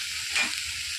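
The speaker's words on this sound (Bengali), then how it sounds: "খালি হলুদ দিয়েছি, লবণ দিয়েছি, আর সর্ষে, শুকনো লঙ্কা, কাঁচা লঙ্কা ফোড়ন দিয়েছি, দিয়ে ভাজছি" Carrots and other vegetables fry in a pan with mustard seeds, dried and green chillies, turmeric and salt, giving a steady close hiss with a brief louder burst of sizzle as they are stirred.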